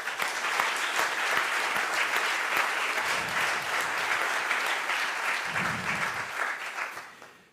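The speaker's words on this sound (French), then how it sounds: "On peut les applaudir." Sustained applause from a conference audience, dense and steady clapping that fills the room throughout, fading out only at the very end.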